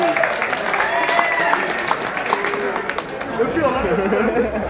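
Audience applause at an MMA event mixed with crowd chatter and shouting voices, a continuous wash of clapping and babble with people talking throughout.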